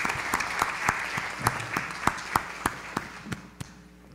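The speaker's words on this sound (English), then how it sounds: "Could we give the panelists, the esteemed panelists, a round of applause again?" Applause from a small audience, a patter of claps with several sharp individual claps standing out, fading after a few seconds.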